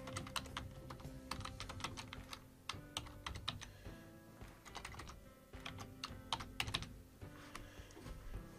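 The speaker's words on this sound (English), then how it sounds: "I'm going to type in the name of the chapter." Someone types a chapter name on a computer keyboard, with quick bursts of soft key clicks separated by short pauses. The typing is close but quiet, with no talking.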